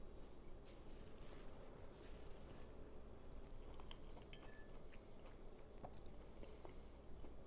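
Faint, soft chewing during a taste test of oyster mushroom étouffée served over brown rice, with light wet bites and a few small clinks of cutlery in a quiet room.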